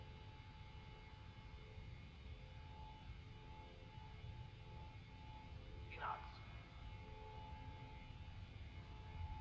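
Boeing 737 jet engines at takeoff in a flight simulator game make a steady, even roar throughout, with a brief higher chirp partway through.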